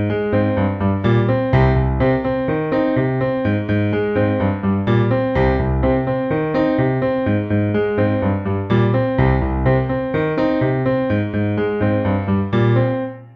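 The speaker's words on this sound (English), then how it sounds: "it's a very recognizable riff from the song, played on two synthesizers, but today we're learning it on the piano" A piano plays the main riff of a song, a steady repeating pattern of bass notes and chords that runs continuously up close with no speech, then stops at the end.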